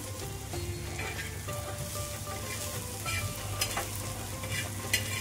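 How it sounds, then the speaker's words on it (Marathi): Onions and spices are sautéed in a pan over reduced heat for vangyache bharit, a smoky mashed brinjal dish, with a continuous close sizzle and occasional stirring scrapes. "आता हे छान परतून घेते मी।"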